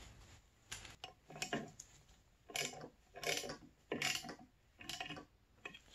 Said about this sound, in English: Go ahead and tighten up those bolts a little.